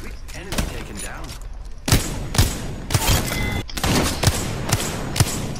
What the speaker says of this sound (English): I missed all those shots.